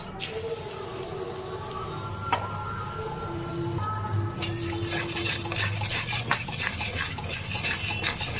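Cashews go into a small amount of hot ghee in a pan over very low heat. A soft sizzle builds while a utensil scrapes and stirs, with stirring growing busier and louder toward the end and no voices.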